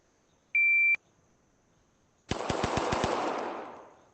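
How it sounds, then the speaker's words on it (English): A single electronic shot timer beep in a VR shooting game, followed after a pause by a rapid burst of six loud gunshots fired in quick succession, with no talking. "we'll go ahead and hit the shot timer with our A button"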